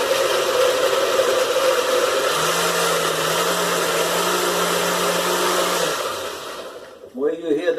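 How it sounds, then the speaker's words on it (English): A blender whirs loudly as it liquefies diced potatoes with water for rappie pie, a steady motor drone whose pitch rises and then holds before it cuts off, and a voice follows briefly. "Gonna put it in the blender."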